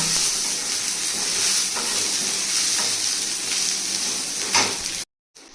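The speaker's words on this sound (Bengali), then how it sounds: "দেখো পেঁয়াজগুলো ভাজা হয়ে গেছে" Steady frying sizzle from onions in a pan, a continuous broadband crackle with occasional stirring scrapes, close and fairly loud, ending abruptly.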